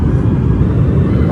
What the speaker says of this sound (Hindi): फाइनली एयरपोर्ट पे और लैंडिंग हो रही है